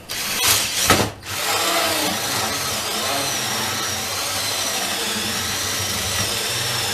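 A power drill with a dull bit bores a hole in wood for a swarm trap, running loud and continuous with a brief dip near the start.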